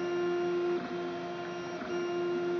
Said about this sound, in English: it prints basically a very thin layer of material through this